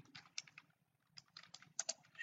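Soft, close keystrokes on a computer keyboard while entering a subject code in MS Word, in two short clusters of quick taps separated by a brief pause, faint and alone.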